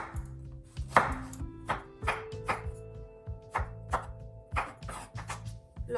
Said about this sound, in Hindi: मैं लॉन्ग स्लाइस में कट कर रही हूँ।